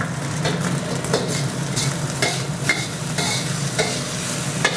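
Metal spatula scrapes and clanks against an iron wok in quick irregular strokes over a steady frying hiss of rice with fermented pork sausage on high heat, close and busy.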